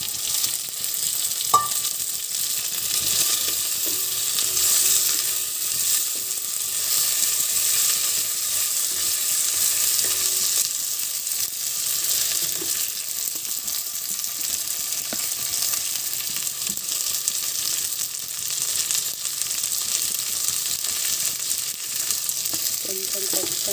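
Okra pieces frying in a pan give a continuous, fairly loud sizzle, steady throughout with occasional faint clinks and stirring, no speech.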